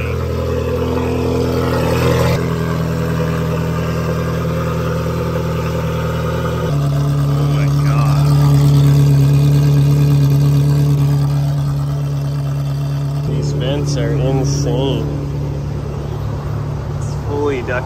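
A Ferrari supercar engine runs loud and steady at idle, a deep sustained drone that swells slightly mid-way, while people talk nearby over it.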